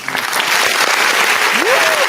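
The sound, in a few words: applause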